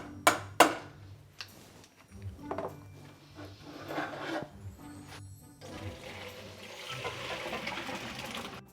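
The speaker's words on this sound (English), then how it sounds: "Then we will drain our potatoes." Boiled potatoes tipped out to drain, starting with a couple of sharp knocks of the pot, then a soft rushing pour of water that builds and runs steadily to the end, no speech.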